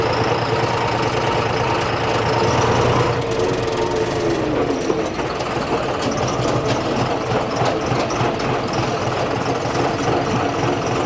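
A John Deere tractor's diesel engine runs steadily on the road, a continuous loud low rumble with knocking pulses and a faint whining tone, with no talk.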